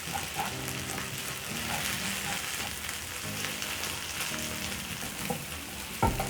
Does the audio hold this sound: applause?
no